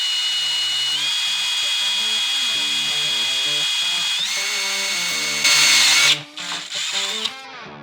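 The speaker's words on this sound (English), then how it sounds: "Let's just hope I don't drill too big of a hole." A power drill whines steadily at high pitch, drilling a hole in a fuel pump part, shifting speed a couple of times, then surges louder before stopping and sputtering.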